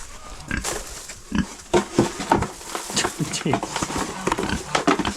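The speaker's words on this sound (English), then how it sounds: "Greedy pig." Pigs grunting and snorting up close on a rural Serbian farm, mixed with sloppy feeding noises and some clanking, while a person talks over them.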